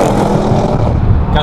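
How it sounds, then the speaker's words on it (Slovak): A loud, deep Audi RS7 exhaust roar rumbling close by, continuous and throaty throughout, on the Autobahn. "Každé podradenie sprevádza prblanie a strieľanie do výfuku."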